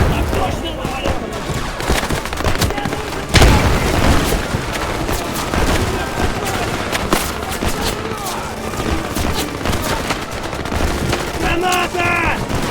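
A grenade blast and dense gunfire fill a WW2 battle at a Stalingrad railway station square in the video game Easy Red 2, with a loud boom early on and rapid shots throughout. Voices shout over the fighting.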